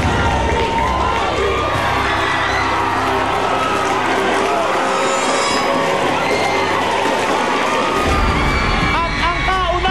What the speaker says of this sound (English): Pagtungtong pa lang sa entablado ng Final Four, kabi-kabilang cheer na ang dumagundong.